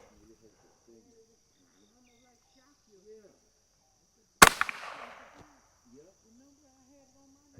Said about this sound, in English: All right, 22, I'm gonna shoot the same target.